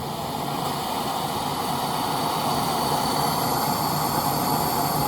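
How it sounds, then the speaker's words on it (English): A Soto Amicus gas camping stove burner roars steadily and evenly, close and loud, with no talk over it. "You'll hear the gas start to escape slowly, and it starts on the first shot."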